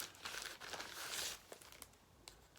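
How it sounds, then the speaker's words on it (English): Plastic packaging crinkling close up, a few bursts of rustling and crackling that fade into quieter scattered crinkles, with no talking. "sorry for the crinkling"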